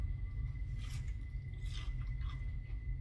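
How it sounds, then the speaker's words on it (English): A bite into crunchy schnitzel gives a few crisp crunching bursts close to the microphone, spread over a steady low background rumble. "Well, let's hear that crunch, Jake."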